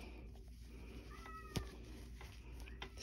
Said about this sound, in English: Excuse my cat crying in the background.